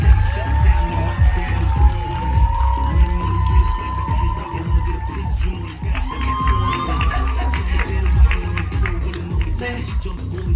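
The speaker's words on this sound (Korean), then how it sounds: "큰 박수 부탁드립니다." An audience at a Korean film screening and Q&A event cheers, screams and claps as the actors are called onto the stage. The dense, loud crowd noise rises and falls steadily and fills the whole stretch.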